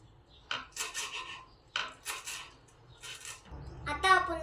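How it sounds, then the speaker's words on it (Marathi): A knife chops fresh coriander on a cutting board in a home kitchen, several short bursts of quick cutting strokes with pauses between them, close and fairly quiet. "आपण कोथिंबीर कट करूया।"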